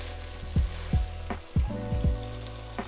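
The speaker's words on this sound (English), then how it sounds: "As you start to cook the lemon" Lemon cooking in a hot pan for a razor clam dish gives a steady close sizzle, with soft knocks or pops recurring about every half second and no talking.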